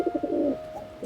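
A pigeon coos in a short rolling series of soft, low notes, fairly close and clear against a faint steady background tone.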